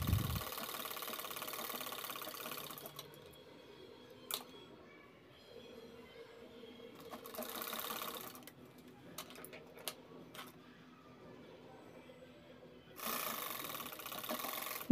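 Sewing machine stitching lace onto a fabric piece for a purse: faint, soft runs of rapid needle ticking in a few bursts separated by quiet pauses, close by in a quiet room.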